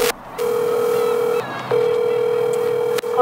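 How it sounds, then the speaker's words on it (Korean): A telephone call tone plays loud and close: a steady pitched tone broken by short gaps, with a click or two between segments. "전화 먼저 한번 해볼게"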